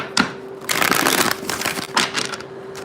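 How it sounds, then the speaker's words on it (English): A deck of tarot cards is shuffled in quick riffling bursts close up, with brief pauses between them and a faint steady hum underneath. "All right, one more shuffle."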